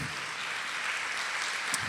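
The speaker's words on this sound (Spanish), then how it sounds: "denle un aplauso al Señor por eso" Applause from a church congregation during a Spanish-language sermon, a steady dense wash of many clapping hands held at an even level for the full two seconds, with no voices over it.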